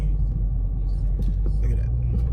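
Low, steady rumble of slow-moving road traffic in a jam, heard from inside a 2019 Dodge Charger Scat Pack, with a continuous engine and road drone and faint hiss above it.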